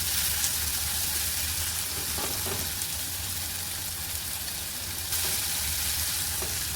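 Tomatoes fry and soften in a hot pan for a Konkan-style sprouted field bean curry, with a steady loud sizzle and occasional stirring scrapes throughout.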